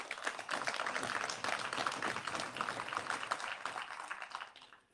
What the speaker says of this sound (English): that round of applause was